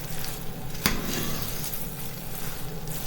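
Steady crackling sizzle of spaghetti frying in a pan, close and continuous, with a brief stir or scrape partway through.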